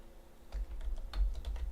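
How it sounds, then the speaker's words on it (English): Quick, uneven clicking of keys on a computer keyboard, a short run of close, light taps over a low background hum. "Again, I'm typing in the dark, guys."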